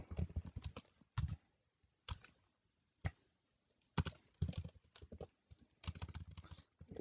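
Fingers typing on a computer keyboard in irregular bursts of crisp clicking keystrokes with short pauses between them, close and fairly quiet.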